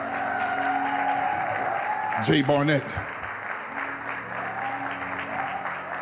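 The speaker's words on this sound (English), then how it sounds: "Clap your hands for Dr. Natasha." A worship-service congregation claps and applauds steadily throughout, a full room of hands under a brief spoken name from a voice on the microphone, with lively crowd noise continuing to the end.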